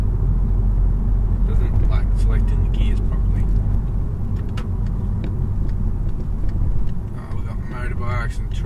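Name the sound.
twin-charged Volkswagen Golf driving on a mountain road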